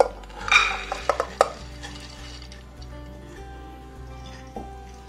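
Soaked green gram being moved into a pressure cooker, with loud metallic clinks and scrapes of a utensil against the pot early on, then quieter shuffling and faint handling noises.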